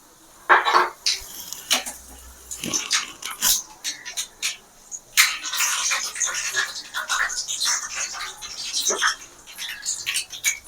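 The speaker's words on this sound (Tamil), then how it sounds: "கடுகும் வெந்தயமும் நல்லா பொரியணும்" Mustard seeds and fenugreek splutter and pop in hot oil for a Tamil turkey berry curry: irregular sharp crackles and bursts, some close and loud, with brief quiet gaps between the flurries.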